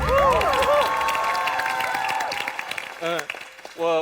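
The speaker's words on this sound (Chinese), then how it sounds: "掌声给他" Studio audience at a Chinese debate show bursting into loud applause and cheering that quickly fades, followed by brief bits of a voice speaking.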